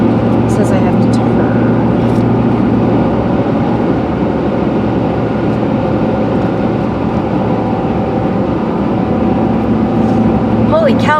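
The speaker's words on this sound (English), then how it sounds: "Holy cow, my tires are loud." Truck tires roar loudly on the road during a drive in western Kentucky, a constant dense rumble close by and steady throughout, with no music playing.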